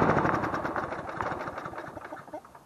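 A lawn mower engine with a carburetor fault runs roughly and unevenly up close, its loud, sputtering drone wavering and pulsing irregularly before fading slightly toward the end.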